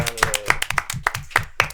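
A podcast-event audience claps along at a steady pace, each hand clap close and crisp, with a few quick beats in under two seconds and no talk over it.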